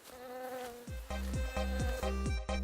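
Wild bees buzzing at a hive set in a hollow high in a tree deep in a forest, a loud close drone with a repeated wavering, pulsing hum and no voices.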